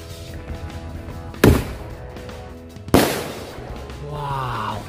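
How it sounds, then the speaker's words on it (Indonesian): Two sharp, loud firecracker blasts from "mercon keras sakti" crackers, set off outdoors, spaced about a second and a half apart, each with a brief crackling tail, followed by a faint rising whistle. "yang selanjutnya ini kita sumet mercon keras sakti"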